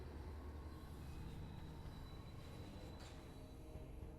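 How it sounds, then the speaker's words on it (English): A big train rides along in Metroid Prime 3: Corruption, with a steady low rumble and rolling wheel noise throughout and a brief metallic screech near the end, all fairly quiet. "So that way we can ride the big train."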